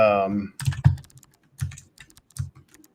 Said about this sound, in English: you start typing and then you type you hit the tab button, you get the autocomplete tab